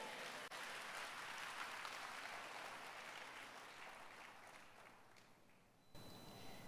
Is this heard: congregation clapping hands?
yes